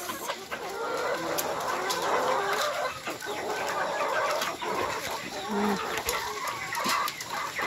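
Several layer hens on a poultry farm cluck and murmur close by in an overlapping, busy chorus, with occasional sharper calls and faint clicks mixed in.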